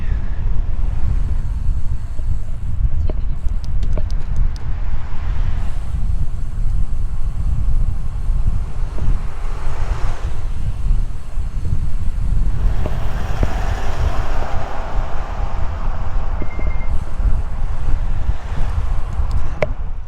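Steady wind rushes over the microphone on a road bike riding into a headwind along a coastal drive in Perth suburbs, a loud continuous low roar with faint passing traffic.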